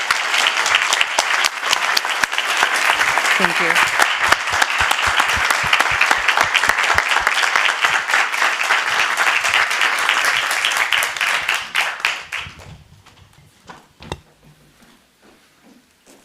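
Loud, sustained audience applause fills a Burbank City Council reorganization meeting for about twelve seconds, then fades out quickly, with a brief spoken thank-you as it dies away.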